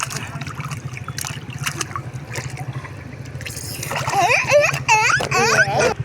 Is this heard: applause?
no